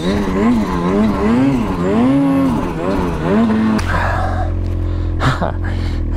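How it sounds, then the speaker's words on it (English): Snow bike engine running in the mountains, a loud rising and falling motor drone with revving swells that cuts off abruptly partway, followed by quieter rumble and people talking nearby. "We've got a snow bike right there."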